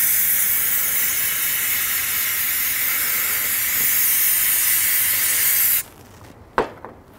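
Filter cleaner sprayed onto a motocross air filter at a sink, a loud continuous hissing spray lasting several seconds, then cutting off abruptly, followed by a couple of quiet knocks.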